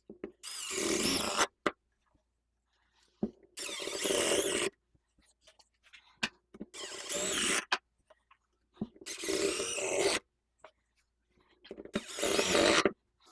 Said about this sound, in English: put a couple of screws right down into that to lock that guy into place